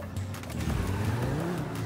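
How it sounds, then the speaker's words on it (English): A T20 supercar spawned in the FiveM game gives a low, steady engine rumble with a slight rising rev, close and moderately loud for about two seconds with no talking. "Now let's spawn a car. So I'll be spawning T20."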